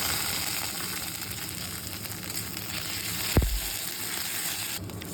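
Onions and cumin paste frying in a pan, a steady close sizzle running through the whole clip, with a brief clank of a utensil partway through.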